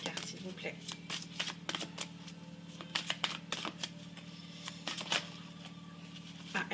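Tarot cards shuffled and drawn in a quiet room: a series of quick, crisp riffling bursts and flicks, close and fairly soft, repeating irregularly throughout.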